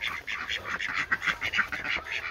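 Female ducks kept in a sheltered pen with food and water quack in rapid, overlapping bursts, a busy cluster of nasal calls close by, with no talk over them.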